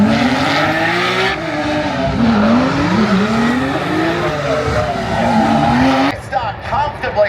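A race car in a racing video game launches from the outside of the front row, its engine revving and rising through gears with tire squeal. The sound is loud and continuous, with a brief cut near the end.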